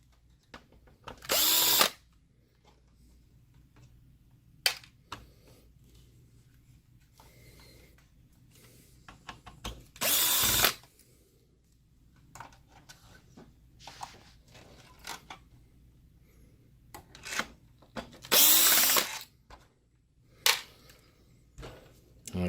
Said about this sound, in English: We're going to take all the top screws out.